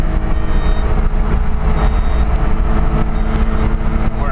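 A 1983 Subaru Sambar Try 4WD kei mini van engine runs flat out against its rev limiter in fourth gear, a loud, sustained buzzing drone that holds nearly steady at close range.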